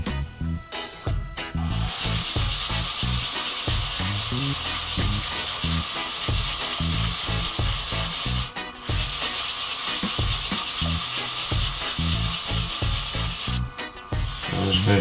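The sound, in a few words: sanding a wooden pendant on the lathe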